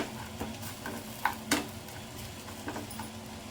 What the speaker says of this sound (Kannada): ಅರ್ಧ ಟೇಬಲ್ ಸ್ಪೂನ್ ಜೀರಿಗೆ ಇದು ಸ್ವಲ್ಪ ಫ್ರೈ ಮಾಡಿಕೊಳ್ಳಿ